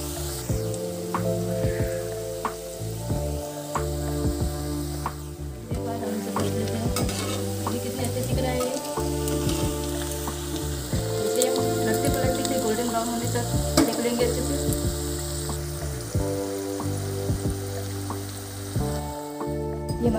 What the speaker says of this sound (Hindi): मीडियम फ्लेम पे ही मठरियों को डाल देते हैं